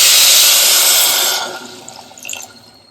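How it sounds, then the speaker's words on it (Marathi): Hot water is poured into soaked, washed and roasted Indrayani rice in a pot: a loud rushing pour for about a second and a half, then fading to quieter bubbling and trickling. "तर आता ह्याच्यामध्ये गरम पाणी ऍड करायचं."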